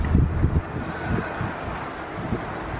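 Gusty wind buffets the microphone by the sea in front of a supermarket, heavy low rumbling bursts over a steady hiss, with traffic noise blended in.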